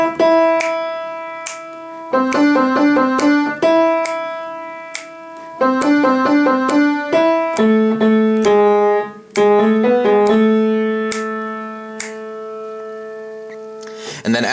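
A piano plays the right-hand chorus melody of a song alone and up close. Clear, repeated note patterns ring out with sustained tones and a few sharp high accents.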